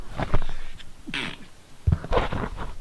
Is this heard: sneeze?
yes